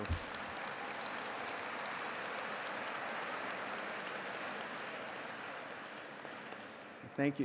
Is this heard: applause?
yes